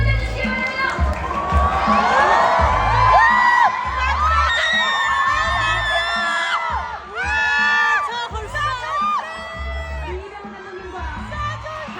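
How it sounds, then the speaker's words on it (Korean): An audience at a film showcase for the movie Dream cheers and shrieks as the cast comes on stage, with bursts of loud excited screaming and yelling rising and falling over a thumping background beat. "큰 박수 부탁드립니다"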